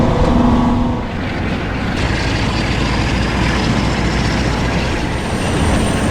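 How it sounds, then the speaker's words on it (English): A British Rail Class 55 Deltic diesel locomotive, a loud, steady, broad engine roar that sustains without letup from start to finish, with no voices. "Oh, I can hear a Deltic."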